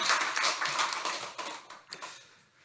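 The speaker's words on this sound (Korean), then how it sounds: "오늘도 격려의 박수 하겠습니다." Congregation at a Sunday church worship service clapping in encouragement for the choir, a dense burst of many hands that thins out and fades over a couple of seconds, with a few scattered last claps.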